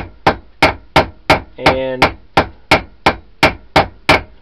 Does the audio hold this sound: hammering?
yes